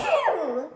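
A single short sneeze close by, with a voiced, falling tail that fades out in under a second.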